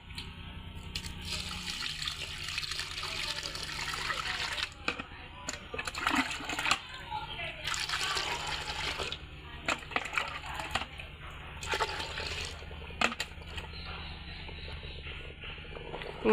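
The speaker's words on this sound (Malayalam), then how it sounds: "ഈ മണ്ണിലേക്ക് ആവശ്യമായ വെള്ളം ഒഴിച്ച് നമുക്ക് കൊടുക്കാവേ" Water poured into soil to make clay at home, a steady splashing and trickling with brief knocks and crunches, close and moderately loud, no voices.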